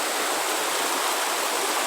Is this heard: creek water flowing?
yes